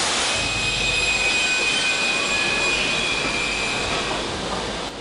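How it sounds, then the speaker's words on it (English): A train in a Harry Potter video game brakes hard, its wheels squealing with a sustained high metallic screech over a loud, steady rumble of rolling cars throughout. "I wish the train slamming on its brakes sounded a little less screechy."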